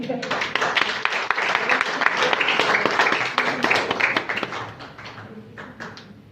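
An audience of women claps steadily through a shield presentation at a Quran recitation competition, with many sharp close hand claps that thin out and scatter toward the end.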